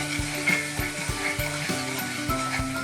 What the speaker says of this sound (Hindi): देखो अच्छी तरह फ्राई होना शुरू हो गया